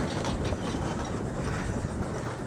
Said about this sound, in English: as the tram's going by